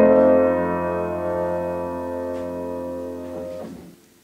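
A sustained cadential 6-4 chord resolving to a dominant seventh chord, held on a keyboard-like instrument with steady harmonic tones that shift briefly near the end before fading out, heard alone.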